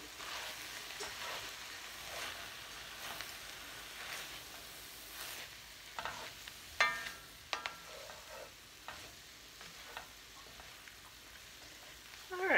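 Ground beef, cabbage and onions fry in a pan with a soft, steady sizzle, broken by sharp scraping clacks of stirring toward the end.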